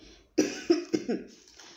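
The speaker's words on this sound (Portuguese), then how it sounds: "Desculpa a tosse, mas ainda tô um pouco ruim" Three or four short, sharp coughs in quick succession, close and moderately loud, in an otherwise quiet room.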